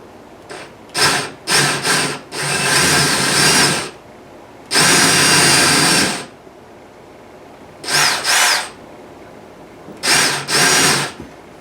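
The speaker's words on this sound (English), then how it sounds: "this hole saw is a 1 inch. It's a little bigger than the bolt" A power drill spins a 1 inch hole saw through material in short bursts while installing carpet brackets in a 1980s Camaro IROC-Z, five loud whirring runs of one to two seconds separated by brief silences.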